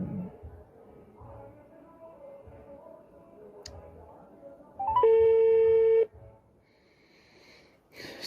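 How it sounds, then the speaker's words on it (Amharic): A phone call's ringing tone sounds once as a single steady electronic beep lasting about a second, close and clear against quiet background noise. "በድጋሚ ስልኳ እየጠራ ነው"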